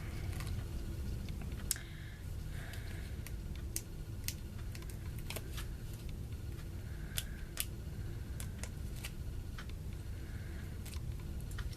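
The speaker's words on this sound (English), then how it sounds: "So we're going to go ahead and peel all of these off." Backing strips peeled off foam adhesive pieces on a handmade birthday card, a scattered series of sharp little clicks and crackles at close range in a quiet room.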